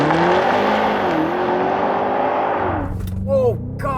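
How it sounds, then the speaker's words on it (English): A 2024 BMW X5M Competition launches hard from standstill, its loud engine note climbing steadily and stepping through gear changes for nearly three seconds before easing off as a voice speaks. "'24 BMW X5M. Competition with launch control."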